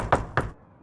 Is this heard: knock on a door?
yes